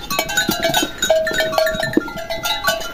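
Goats come in from the caatinga scrubland seeking supplements, bleating repeatedly in quick overlapping calls close by, with occasional knocks and bell-like clinks among the herd.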